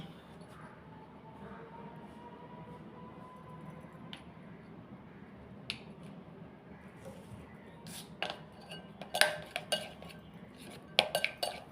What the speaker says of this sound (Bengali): 1 চামচ কর্নফ্লাওয়ার এবং 1/2 চামচ ময়দা দিয়ে ভালো করে এটা ফেটিয়ে নিয়েছি